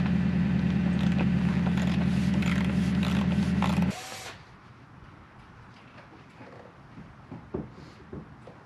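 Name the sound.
removing 16 mm bumper bolts on a Jeep Gladiator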